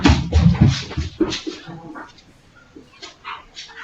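A dog whimpers and yips indoors in a living room, a few short high whines mixed with louder voices talking over them at first, then quieter intermittent whimpers near the end.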